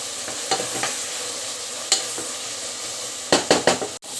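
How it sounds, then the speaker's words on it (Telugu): Onions frying in a pan with a little salt, a steady close sizzle broken by several sharp stirring scrapes and clinks of a spatula against the pan, with no talking. "ఇంకా ఉల్లిపాయలు వేగుతున్నాయి"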